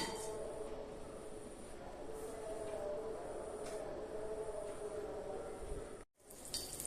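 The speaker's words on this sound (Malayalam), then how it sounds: "കടുക് പൊട്ടണം." Mustard seeds splutter in hot sesame oil, a steady faint sizzle broken by scattered small pops, with a brief drop to silence near the end.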